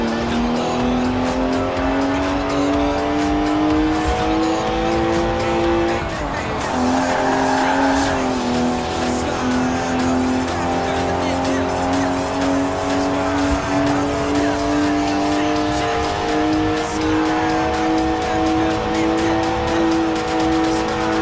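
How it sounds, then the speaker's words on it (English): A BMW in the Forza Horizon 4 racing game screeches its tires through a smoky burnout, the loud, sustained squeal rising and falling in pitch over a droning engine, with a brief dip midway before the wail resumes. "Look at the smoke! Please leave me some tread for the drive home, Stiggy."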